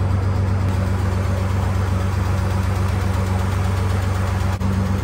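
Spec BMW E46 race car engine idling steadily, close and loud, with a fast, light ticking running through the low rumble that suggests a collapsed lifter or valve fault.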